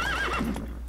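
Roach, the horse in The Witcher 3 video game, lets out a short, loud whinny, a single shrill neigh that falls away in under a second.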